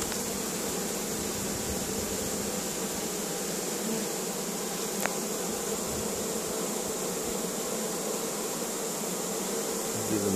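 Honey bees from a captured swarm fan in front of their hive box, a steady close buzzing drone that holds evenly throughout with no voices.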